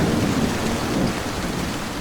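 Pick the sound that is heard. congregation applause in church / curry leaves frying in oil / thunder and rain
thunder and rain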